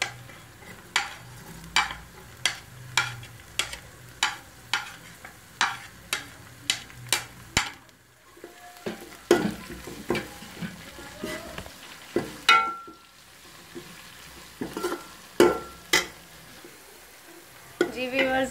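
Green chilies stirred into frying meat in a pan, a steady sizzle under regular scraping strokes of a spoon, about one per second, becoming more irregular partway through.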